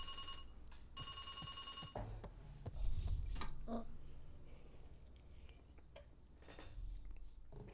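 A phone ringing in the video game Beacon Pines, with bursts of repeated electronic bell tones in the opening two seconds over quiet game ambience, followed by softer clicks and faint background sounds.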